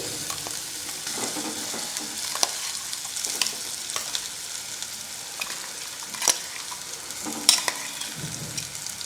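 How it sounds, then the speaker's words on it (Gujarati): Crushed peas stirred into hot oil with whole cumin and asafoetida, giving a steady close sizzle and frying hiss with scraping stirs and a few sharp clicks of the spoon against the pan throughout. "તરત જ આપણે વાટેલા જે વટાણા છે તે ઉમેરી દઈએ"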